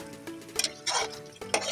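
Blended spice masala fries and is stirred in hot ghee in a pan for potato and egg curry, giving short bursts of scraping and sizzling close up with no talk.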